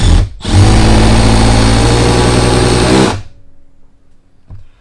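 A Milwaukee M12 quarter-inch impact driver on setting 3 drives a 4-inch GRK screw in one continuous, loud, rapid hammering burst of about three seconds after a brief start, then quiet.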